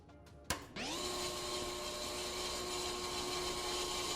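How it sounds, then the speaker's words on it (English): A brake rotor being machined on a lathe in the game Car Mechanic Simulator 2021, a sharp click followed by a steady, loud whirring spin that holds constant to the end. "See if I can lathe the brake rotors."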